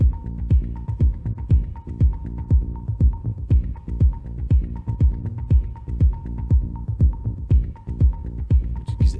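A rhythmic electronic music production loop made of a steady pulsing throb with a repeating tone on top. The beat is evenly paced, with a short gap where the pattern breaks before it resumes. It is close and fairly loud, with no voices.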